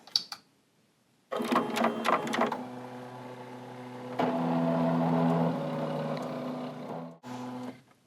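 An embroidery machine stitching out a design on a folded towel in pink thread, starting after a brief click, then running in a steady buzzing whir with rising and falling tone, a short pause and a final burst, close and alone.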